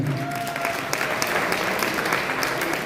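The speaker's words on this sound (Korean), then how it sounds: "다시 한번큰 박수를 부탁드리겠습니다" Wedding guests at a ceremony give a short burst of dense, steady applause, close and continuous throughout.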